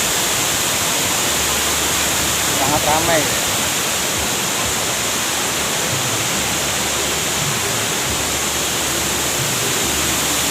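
Putri Nglirip waterfall in Tuban, East Java, pours as a loud, constant broadband roar of falling water, with a few quiet voices from visitors briefly audible beneath it.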